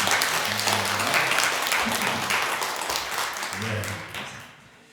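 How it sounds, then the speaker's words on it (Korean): A church congregation claps warmly during a Sunday worship service, dense steady applause that gradually fades near the end, with a voice speaking briefly over it. "다시 한번 뜨겁게 박수하겠습니다"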